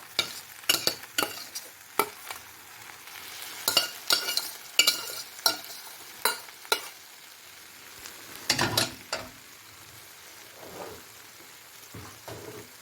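A utensil scrapes and stirs buckwheat and minced meat in a frying pan in a quick series of sharp strokes, with a faint sizzle between them and no talking.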